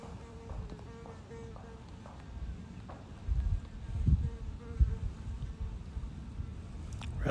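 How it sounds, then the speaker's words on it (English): A ground-dwelling bee buzzes inside its nest under a rock outdoors, giving a faint, low, steady drone beneath wind and handling noise. "I can still hear her buzzing down there."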